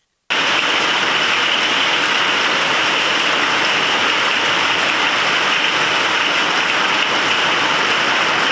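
Heavy hailstorm rain pounding down in Bidar, a dense, steady roar of rain and ice striking surfaces, loud and continuous from start to finish with no voices.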